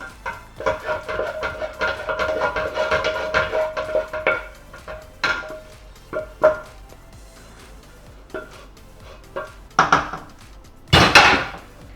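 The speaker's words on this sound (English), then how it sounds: "Just scrape out anything that's stuck to the bottom of the pan." A utensil scraping and clattering against the bottom of a pan with potatoes, a run of close metallic scrapes for several seconds followed by scattered knocks and a louder final scrape.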